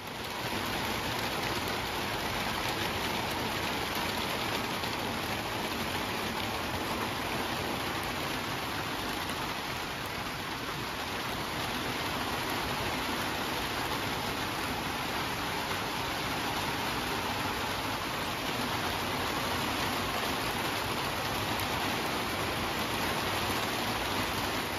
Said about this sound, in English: And then the rain came.